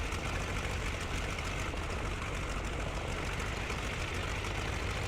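A WWI aircraft engine in the flight game Rise of Flight runs steadily at a low idle, a dense, even droning rumble with no breaks, no voices.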